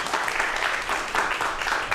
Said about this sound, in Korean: 오늘의 주인공 두 분을 박수로 환영해 주시기 바랍니다